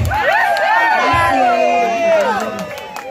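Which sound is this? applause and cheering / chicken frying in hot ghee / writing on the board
applause and cheering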